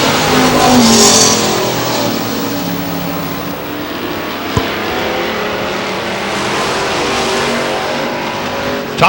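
Race cars roaring around the Star Speedway oval in New Hampshire, a loud continuous engine drone with passing revs and a brief sharp knock midway, no voices.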